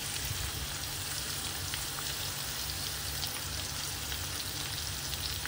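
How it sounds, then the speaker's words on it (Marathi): Finely chopped onions and garlic paste frying in a pan for pav bhaji, a constant soft crackling sizzle like light rain, even and unbroken, heard up close and fairly quiet. "आणि त्यानंतर एकदम असे बारीक चिरलेले कांदे घालूया"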